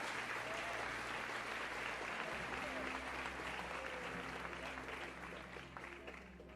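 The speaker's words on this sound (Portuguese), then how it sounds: "Você consegue aplaudir ao Senhor pela sua palavra agora?" A church congregation applauds steadily for several seconds, a dense, sustained clapping that fills the space and gradually eases off toward the end.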